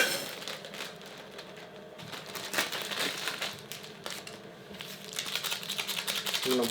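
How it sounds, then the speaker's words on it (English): Crushed dry noodles pour into a thermos food jar with a continuous dry rustling and crinkling patter, close and fairly quiet, swelling toward the end. "Going to pour in my noodles."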